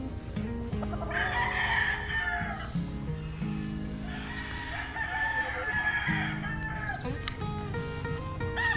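A bulik gamecock rooster crows twice nearby, each long, strained crow lasting about two seconds, with a low, steady background hum around it.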